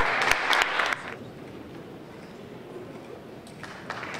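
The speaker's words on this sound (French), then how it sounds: "On les applaudit très fort." Crowd applause at an anniversary business event, a burst of clapping that drops off after about a second, leaving soft room murmur with a few scattered claps returning later.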